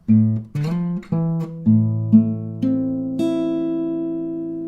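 A few plucked acoustic guitar notes fingerpicked one at a time, a low bass note under higher tones, ringing out and sustaining, played alone with no talking; the intro of a song.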